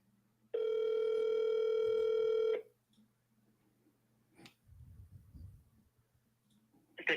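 A telephone call tone sounds loud and steady for about two seconds, then cuts off. Soft clicks, faint rustling and a low rumble follow before the call is forwarded to automated voicemail.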